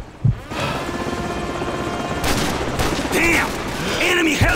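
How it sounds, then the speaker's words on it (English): Call of Duty 4: Modern Warfare campaign combat: a constant helicopter rotor drone with bursts of gunfire, short voice snippets and electronic effects over it. "You didn't say there'd be helicopters, Kamarov."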